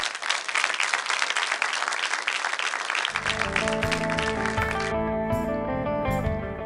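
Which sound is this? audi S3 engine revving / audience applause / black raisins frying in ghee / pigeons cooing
audience applause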